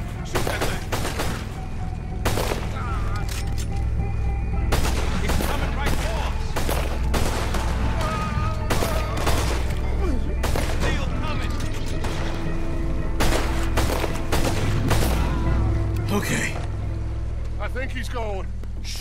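Gunfire in Red Dead Redemption 2, with repeated sharp shots and bursts crackling over a steady low rumble of game action and a boat-like drone, while voices talk throughout.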